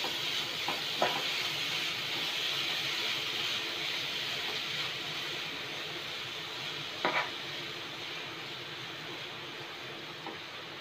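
Finely chopped fenugreek leaves stirred and cooking in a hot pan give a steady soft sizzle with faint scraping stirs, including a few brief clinks, heard close and alone.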